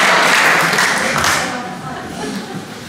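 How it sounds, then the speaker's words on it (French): Applause from a crowd in a played recording of French president Emmanuel Macron, a steady wash of clapping that fades slightly toward the end. "C'est Macron qui vous applaudit"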